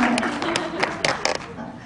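Brief audience applause at a contemporary art panel discussion, a short burst of scattered hand claps fading out within two seconds, with voices underneath.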